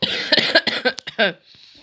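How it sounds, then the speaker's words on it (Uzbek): A person coughs several times in quick succession, close and fairly loud, with throaty rough bursts followed by a short breathy pause at the end. "Uzr, solgan yo'tal qiynayapti-da"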